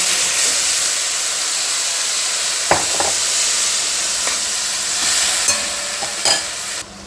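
Moong usal cooks in a kadhai, a steady close sizzle and hiss broken by a few sharp scraping stirs of a spoon against the metal.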